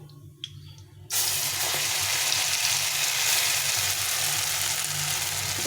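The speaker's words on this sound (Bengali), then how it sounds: "আমি এর মধ্যে আর কিছুটা তেল দিয়ে দেবো দিয়ে ভর্তাটা দিয়ে দেবো ওর মধ্যে" Mashed taro with black cumin dropped into hot oil in a pan, bursting into a loud, steady close-up sizzle after a second of quieter clinking.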